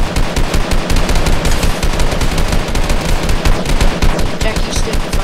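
Video game gunfire from a mobile duos match pours out as a loud, relentless automatic stream of rapid shots, close and unbroken for several seconds, with no talking.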